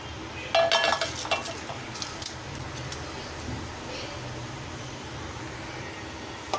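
Whole spices go into hot oil in a pot for tomato biryani: cardamom, star anise, cloves, cinnamon and fennel. A burst of metal clinks and scrapes from stirring gives way to a quieter, steady cooking hiss.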